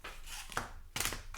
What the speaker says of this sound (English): We're going to give these a good shuffle.